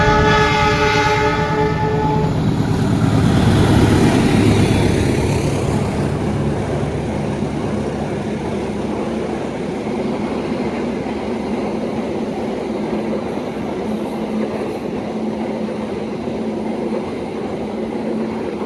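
A lone locomotive of a fuel transport train sounding its horn, then rushing past at high speed with a loud, steady roar that lingers as it goes by.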